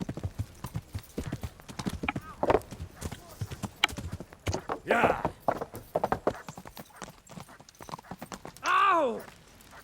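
A horse's hooves clip-clop in a quick repeated rhythm in the video game Kingdom Come Deliverance, close and clear, with a loud whinny near the end and brief speech.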